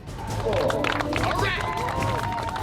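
Crowd noise at a Golden Knights Army parachute team show, a steady, loud mass of cheering and clapping with babble and whistles running throughout.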